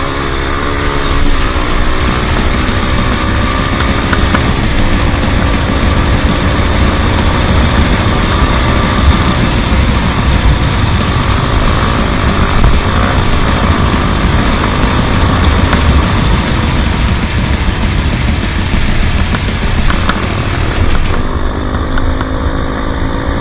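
A KTM 350 dual-sport dirt bike engine screams at full throttle on an off-road trail, a loud, sustained high-revving drone for over twenty seconds that drops away abruptly near the end.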